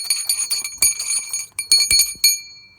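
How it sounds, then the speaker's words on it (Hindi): A small hand bell, rung to call a boat at Wadi Ash Shab, Oman, rings in quick repeated bursts of bright metallic clangs, pausing briefly midway before a final ring fades out. "जब इसकी घंटी बजा दी तो अभी बोट का वेट करना पड़ेगा"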